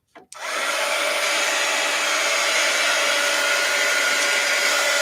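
A hair dryer switches on after a brief click and blows steadily, loud and close, as it dries a wet art journal page, a constant whooshing roar with no talk.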